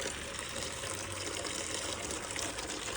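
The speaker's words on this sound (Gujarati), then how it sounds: "પક્ષીઓ માટે પાણી ભરવું જ પડશે." Water gushing steadily from a tap into a container for birds, a constant splashing flow at moderate volume without pause.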